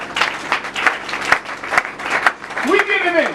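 A church congregation applauds steadily, a sustained wash of clapping hands throughout, with a voice speaking over it and a sung or drawn-out vocal rising near the end.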